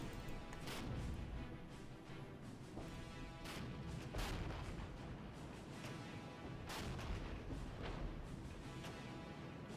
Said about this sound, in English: the tank battle between the Leopards and the T-64s is very even here